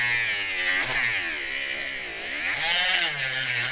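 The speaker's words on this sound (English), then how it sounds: "So you can kind of hear the Dremel even stop" A Dremel rotary tool grinds a dog's nails up close, a loud continuous high whine that dips in pitch around the middle as the tool slows under load, then rises again.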